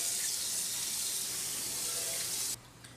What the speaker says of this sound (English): Rinse inner pot and all accessories with warm,